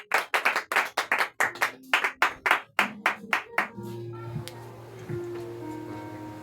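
Congregation at a Sunday church service claps in a strong, regular rhythm of about a dozen loud unison beats, which then stop and give way to a sustained organ-like tone and softer background sound.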